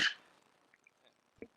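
A single sharp sneeze opens the clip, loud and close, followed by quiet room tone with a few faint small sounds and a brief soft noise near the end.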